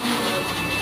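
Pet blower dryer running at a pet grooming clinic, a steady broadband whoosh with a faint high whine, loud and continuous for under a second.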